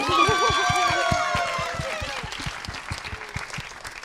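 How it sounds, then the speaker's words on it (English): An audience at a screening and celebration gives a round of applause. The clapping is steady and moderately loud, and a whistle and cheering voices rise over it at the start before the clapping carries on alone. "So we have, round of applause."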